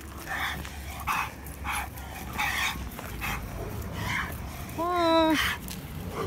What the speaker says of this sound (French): C'est un chien en fait qui s'excite, qui s'énerve un peu.